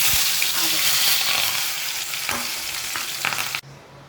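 Chopped onion, tomato and curry leaves hitting hot oil for okra bhaji produce a loud, continuous close-up sizzle with stirring, which stops abruptly near the end.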